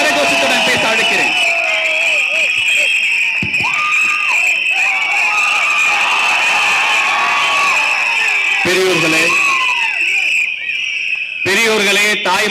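Large crowd at a Tamil political party rally cheering, whooping and applauding to welcome the deputy general secretary to speak, a loud sustained roar with shouts and a voice over the din.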